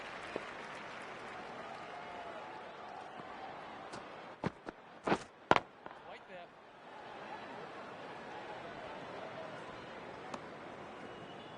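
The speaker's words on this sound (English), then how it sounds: "the crowd appreciates some very good running" Cricket crowd at an Australia versus South Africa Test match applauding good running between the wickets, a steady wash of clapping and murmur with a few louder sharp claps near the middle, heard from a distance.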